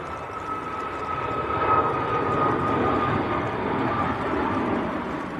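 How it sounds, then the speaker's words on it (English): A TUI airliner climbs away after takeoff from Manchester Airport, bound for Lanzarote, its engines giving a steady, fairly loud roar with a thin high whine that swells briefly and holds. "Tui just getting airborne"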